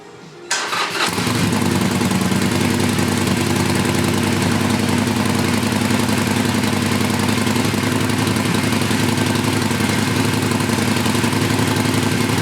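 A Harley motorcycle engine cranks and fires, then settles into a loud, steady rumbling idle heard close up, with rattling from missing heat shields.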